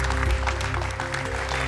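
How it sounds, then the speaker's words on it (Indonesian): A studio audience claps steadily at a talk show welcoming a guest, with dense, continuous applause that holds at an even level throughout and no speech over it. "tepuk tangan boleh semua"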